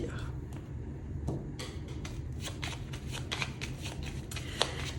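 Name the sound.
shuffling a deck of cards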